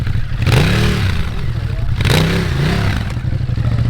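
A Ducati motorcycle fitted with an HP Corse aftermarket exhaust revs hard twice at close range, each throttle blip rising and falling over a constant loud engine rumble.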